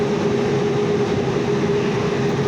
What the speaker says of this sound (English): well there goes the train.